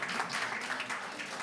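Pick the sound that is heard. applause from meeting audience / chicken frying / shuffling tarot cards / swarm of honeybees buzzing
applause from meeting audience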